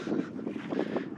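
Wind gusting steadily across a desert canyon trailhead parking lot near Kanab, Utah, a continuous close rushing buffet on the microphone that swells and eases in waves, with no talking.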